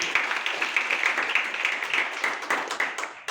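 An audience claps during an honoring ceremony on a stage at a business-plan event. The applause is dense and sustained, with many hands at a steady, lively patter.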